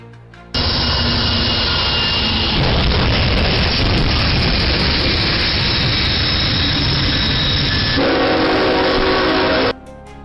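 A high-speed passenger train rushes in with a loud, sustained roar and blaring horn before striking a truck stuck at a level crossing, the noise holding steady and then cutting off abruptly.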